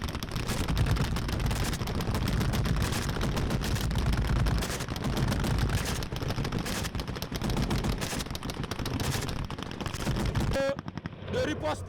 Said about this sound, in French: vous entendez le coup de feu